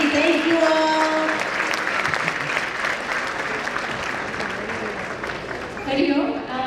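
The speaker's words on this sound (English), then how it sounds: "One more big round of applause from Gangotri." Big round of applause from a crowd at an annual fundraising banquet, a dense, sustained wash of clapping throughout, with voices speaking over it at the start and end.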